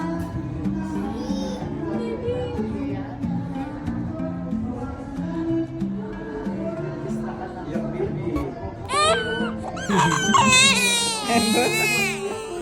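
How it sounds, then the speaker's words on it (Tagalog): A two-month-old baby cries after a vaccination. Soft whimpering under background voices builds into loud, piercing wails near the end. "Iyak nga eh."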